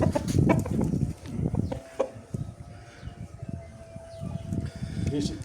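A Bangkok × Brazil Indian game hen, small and about two kilos, gives a few soft clucks at close range amid farmyard noise, with a faint voice in the background.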